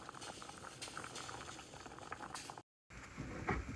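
Red kidney beans boiling in a pot for rice and peas, a close, busy bubbling and patter of rolling water that breaks off briefly, then resumes with louder gurgling bursts, no voices.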